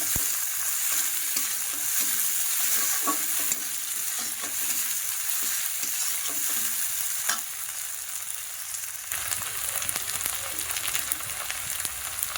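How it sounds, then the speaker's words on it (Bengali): Garlic and ginger paste sautés in a pan, a steady close sizzle with repeated scraping and stirring knocks running throughout. "রসুন বাটা আর আদা বাটা ভালো করে কষিয়ে নেব"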